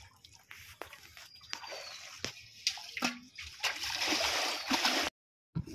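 Catla fish poured out with water at a pond, wet splashing and dripping with squishy slaps, moderately close, ending in a brief silent gap.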